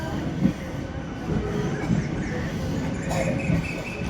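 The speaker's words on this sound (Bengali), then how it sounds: "আর আমাদের ট্রেন এখন রওনা দিয়েছে হাওড়া স্টেশনের মধ্যে থেকে।" Medinipur-Howrah local train departing Howrah station, heard from on board as a steady rumble of wheels on rails with occasional clanks and squeals, close and continuous.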